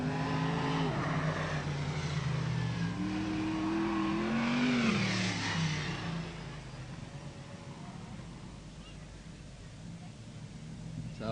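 Sprint cars race at Newcastle Motordrome in an Easter Sprint Car Championship pole shuffle, engines roaring and rising in pitch as they accelerate, then fading into a lower distant drone.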